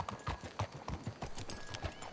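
Horse hooves clip-clop at an easy walk in Red Dead Redemption 2, a steady rhythm of close, distinct thuds over a faint background, with no talk.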